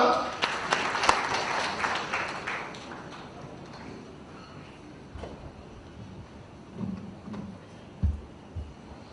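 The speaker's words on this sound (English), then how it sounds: "Can we have a huge round of applause for sir?" A burst of applause from a conference audience rises at the start and fades out over a few seconds, leaving quiet room noise and scattered thumps.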